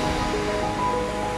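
Ocean waves wash onto a turtle nesting beach in a loud, continuous roar of surf, close by and without voices.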